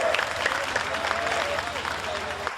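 An audience claps at a Hindi poetry recital on a stage. The applause is a dense, steady patter lasting throughout, with a voice faintly audible beneath it.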